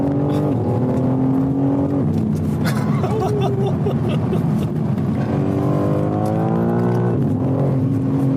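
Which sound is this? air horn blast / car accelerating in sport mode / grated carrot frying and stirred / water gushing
car accelerating in sport mode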